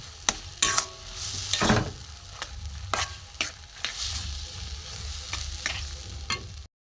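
Grated potato and boiled peas stir-fried dry with spices in a pan, for pea chop filling, with repeated scraping strokes of a spatula over a soft continuous sizzle, close and moderately loud with no talking.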